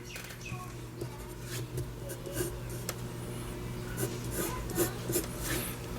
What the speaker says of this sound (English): using our eraser, take it and erase these lines that are sticking out